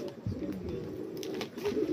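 Racing pigeons coo in soft, low murmuring calls, a near and steady flock sound with no talking over it.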